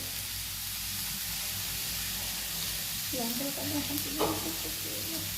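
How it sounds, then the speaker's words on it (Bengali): Chopped chilli, ginger and garlic with vegetables fry in a pan for a veg momo filling, giving a steady close hiss of sizzling oil, with a voice speaking briefly over it near the end. "লঙ্কা কুচি আর একটু রসুন কুচি দিয়ে পরে সমস্ত কিছু ভালো করে ভেজে নিচ্ছে।"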